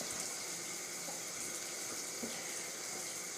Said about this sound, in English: I rinse it off with cold water.